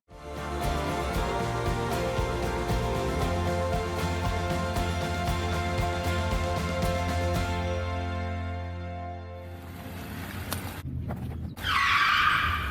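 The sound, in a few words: car skidding, tires screeching, near miss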